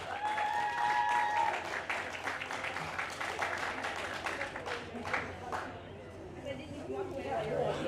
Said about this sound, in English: Let's give Laura a huge round of applause.